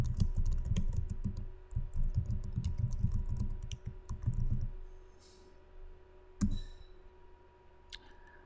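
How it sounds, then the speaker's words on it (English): Keyboard typing in a quiet room, dense rapid clicking for about five seconds, then a few isolated key taps and clicks with pauses. "Now I'm going to type something in the host file."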